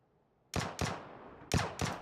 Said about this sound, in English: That was me shooting out the tires so he couldn't try to get that and run away.